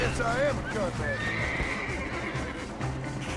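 A horse whinnies with a wavering neigh and hooves clip-clop in the Red Dead Redemption video game, loud and close, with someone talking over it.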